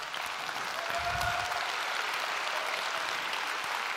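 Audience applause at the Poco F6 smartphone launch event; a steady, sustained wash of many hands clapping from a large indoor crowd, fairly loud and continuous with no voices over it.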